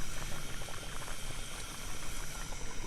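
Mutton curry with tomato and onion simmers over a medium flame in a dense, steady bubbling and popping that is close and continuous, with no voices.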